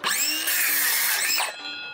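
A cordless grinder saw cuts through wooden boards with a loud, high-pitched whine. The pitch dips under load partway through, then the saw winds down near the end.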